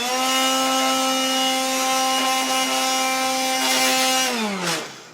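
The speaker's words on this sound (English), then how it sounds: "It's a blower, so we can clean the oven." Blower cleaning out a pizza oven, a loud steady whining drone with strong even tones that holds, then drops in pitch and fades as it winds down.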